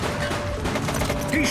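Dense gunfire from a suspect in the police game The Precinct, a continuous loud crackling volley lasting the whole moment with no gaps.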